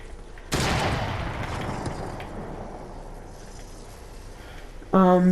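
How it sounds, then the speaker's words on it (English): Gunfire in the video game Fortnite, a sudden loud burst of shots that decays into a long rumbling tail under steady background noise, followed by a brief tonal game sound at the end. "Just got shot at."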